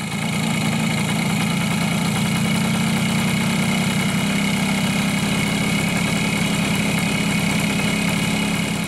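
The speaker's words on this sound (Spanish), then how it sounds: "la marcha del motor se acelera solo de la nada y sin motivo aparente, incrementando las revoluciones." A Suzuki AX100 motorcycle engine idles steadily and loudly, its low rumble holding throughout with a slight rise in revs as the idle speeds up by itself, no voices present.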